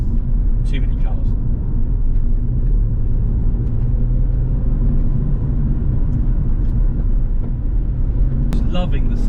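A steady low engine drone from an MG ZS 180 Monogram Nocturne on the move, a dense continuous rumble heard from inside the cabin with no clear revving.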